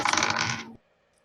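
Dice rolled onto a tabletop during a tabletop game session, a brief clattering rattle lasting under a second before stopping abruptly into quiet.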